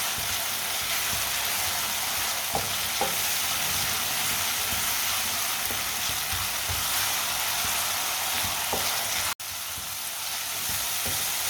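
Tomatoes fry and sizzle steadily in a pan on a stove, a constant close hiss with a few faint stirring clicks and one brief dropout near the end.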